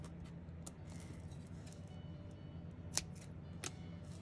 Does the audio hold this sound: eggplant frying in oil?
no